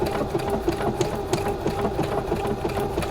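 Sewing machine stitching steadily in a close, loud, fast mechanical rhythm of needle strokes, running continuously with no talking.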